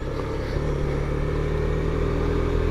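Mondial HPS 125 motorcycle engine humming steadily while riding, a continuous close, loud drone with no talk.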